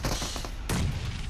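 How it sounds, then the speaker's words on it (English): A grenade explodes in a PUBG Mobile esports match, a single sharp boom midway through with a low rumbling tail, set against continuous game ambience and scattered distant gunfire. "Oh, that would have been a huge grenade."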